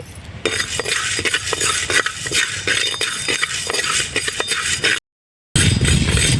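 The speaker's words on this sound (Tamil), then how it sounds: "பாருங்கள் இந்த அளவு உளுந்து உளுந்தை வறுத்துக்கலாம்" Urad dal dry-roasting in a pan, stirred with a metal spoon that scrapes and clinks in quick, repeated strokes over a rough rustle, loud and close, with a short silent break near the end.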